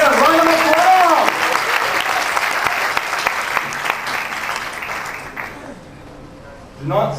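A startup bootcamp audience in Dhaka breaks into a loud, dense round of applause that fades over several seconds, with a voice speaking over the clapping and a brief swell near the end.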